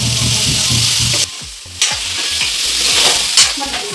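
Cut potatoes tipped into a hot frying pan with lentils, giving a loud, close crackling sizzle that continues steadily with occasional stirring clatter, no voices.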